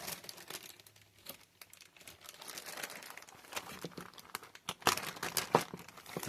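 A plastic Ziploc bag holding small model locomotive detail parts crinkles and rustles close by in irregular bursts, with a few sharper crackles near the end and no talking.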